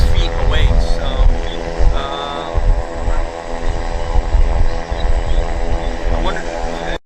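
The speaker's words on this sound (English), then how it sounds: "this airplane running its engines just feet away" An airplane running its engines just feet away at Vancouver Airport, a loud, steady roar with a low rumble and sustained tonal hum filling the scene, while a person talks over it.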